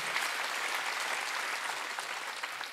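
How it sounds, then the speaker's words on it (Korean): A congregation at a Wednesday church service claps together in a dense, even roar of hands that holds steady throughout without a voice on top. "박수치라"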